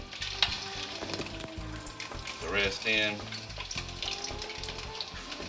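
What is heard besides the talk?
fish frying in hot grease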